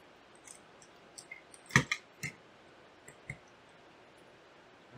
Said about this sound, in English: So let's remove the last two screws that are holding the bracket together.